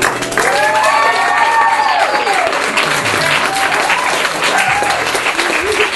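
Guests at a wedding party give loud, continuous applause mixed with cheering, with excited voices and whoops rising and falling over the clapping throughout.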